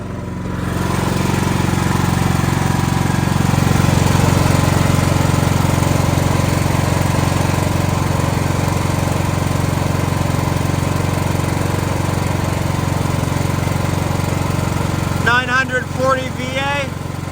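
An emergency standby generator runs under load during routine testing, a loud, close, steady engine drone that holds unbroken, with a brief burst of faint voices or chatter near the end.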